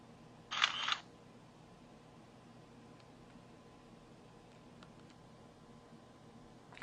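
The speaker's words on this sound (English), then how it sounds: "the shutter button takes the picture" A single camera shutter click near the start, sharp and close, followed by a quiet room hum.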